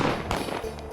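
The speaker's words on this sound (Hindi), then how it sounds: "के बाद चली जश्न दी गोलियां" Celebratory pistol shots ring out after a wedding: two sharp, close bangs about half a second apart, the first louder, each ending in a short crackling tail over a low background murmur.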